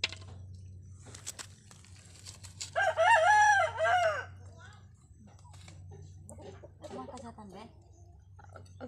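A rooster crows loudly and clearly near the middle, set against steady low hum and scattered clucking from chickens at a farm field, with brief soft voices around it.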